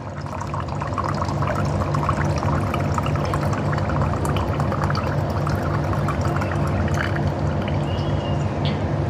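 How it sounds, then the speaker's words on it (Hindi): Coconut water streams out through a small tap fitted into a coconut, giving a continuous close trickling pour that stays steady and unbroken. "टोटी लग गई है इसके अंदर, ये देखो निकलते ही जाएगा, निकलते ही जाएगा इसमें से।"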